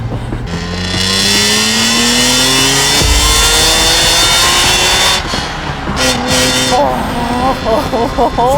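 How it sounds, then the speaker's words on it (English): A BMW E46 M3 with a manual gearbox revs hard through its gears, the engine note climbing in pitch, dropping at a shift, then rising again. The engine sounds loud and close, with brief blips of throttle near the end. "The sound that this car makes and the manual gearbox, that concoction, wow."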